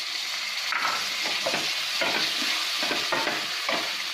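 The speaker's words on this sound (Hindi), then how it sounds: "गैस अब हम मीडियम पे करेंगे और बाकी सब्जियां डालेंगे" Carrots, peas, capsicum and corn are stir-fried over medium heat for Schezwan fried rice, giving a constant close sizzle broken by repeated spatula scrapes and clacks against the pan.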